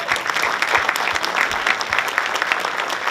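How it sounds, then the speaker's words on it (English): An audience at a governor's community event gives a round of applause, dense steady clapping heard up close and alone for a few seconds. "and that deserves a round of applause."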